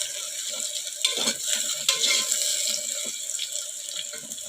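A pan of chinta chiguru (tender tamarind leaf) chicken curry with chopped onions is stirred, giving scraping, wet clatters over a steady close sizzle, with no talking.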